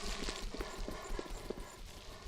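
Horse hooves clip-clop in a row of light, evenly spaced steps in the Oblivion video game, fairly faint against a low background rumble.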